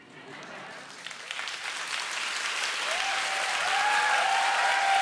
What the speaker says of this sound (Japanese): もう拍手で意思表示はしなくていいんだよ。